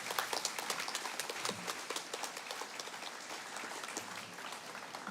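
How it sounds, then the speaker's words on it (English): Graduation ceremony audience at a university commencement claps for two speakers, a sustained rattle of many hands with distinct nearby claps standing out, moderately quiet and steady, no voices over it. "I think we could give them both another round of applause."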